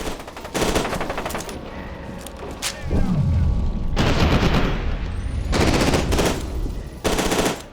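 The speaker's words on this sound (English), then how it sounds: "Oh, that's a grenade." Grenade blast and machine-gun fire in the video game FEAR 2: loud bursts of automatic gunfire come in separate volleys, with a deep boom near the three-second mark, close and punchy.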